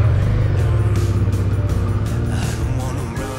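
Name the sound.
motorcycle riding on gravel track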